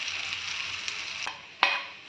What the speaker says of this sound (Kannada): ಸೊ ಅದನ್ನು ಈಗ ಪ್ಯಾನ್ ಮೇಲೆ ಹಾಕ್ಕೊಳ್ತಾ ಇದ್ದೀನಿ